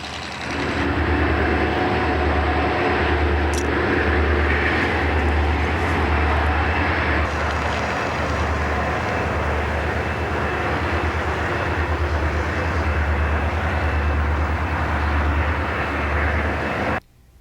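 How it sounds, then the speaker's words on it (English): A Grand Trunk freight train with empty hopper cars and loaded auto racks rolls into Waverly Yard, a loud sustained locomotive rumble with a deep throbbing low drone and a brief high squeal early on, fading out abruptly at the end. "Our train has arrived at the Waverly Yard and is setting off its empty hopper cars and loaded auto racks"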